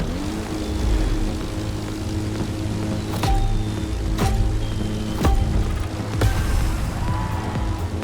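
A propeller plane engine in The Crew Motorfest racing game drones steadily with a low, buzzing hum for the whole stretch, while sharp clicks break through at regular intervals above the constant roar.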